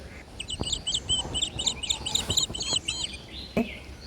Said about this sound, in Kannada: ನಮ್ಮ ಮನೆ ಹತ್ರ ತುಂಬಾ ಬರ್ತವೆ ಬಿಡಿ ಒಂದಲ್ಲ ಒಂದು ಬೇರೆ ಬೇರೆ ರೀತಿಯ ಹಕ್ಕಿಗಳು